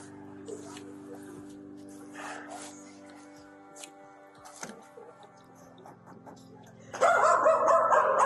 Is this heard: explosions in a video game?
no